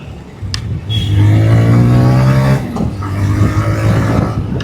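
A 2026 TVS Raider 125 Doom Edition motorcycle engine revs up close, its loud, steady drone swelling, holding, briefly dipping, then rising again.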